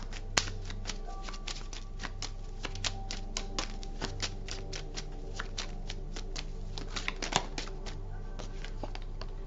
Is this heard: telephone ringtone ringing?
no